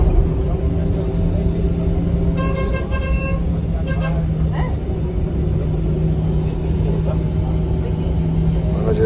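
Low engine rumble fills the cabin of a moving bus on a road near Agra, India, steady and continuous, with horns tooting outside and people talking quietly over it.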